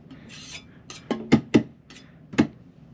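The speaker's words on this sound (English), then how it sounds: "Scrape most of this off into the garbage can here." Grime being scraped off a power supply into a garbage can, a handful of short, sharp scraping strokes at uneven intervals, close and distinct against a quiet background.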